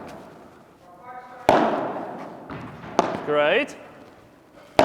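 Padel ball struck with a racket on a vibora shot from the right side of the court, a sharp impact followed by a couple more hits and a thud, with people talking between the strikes.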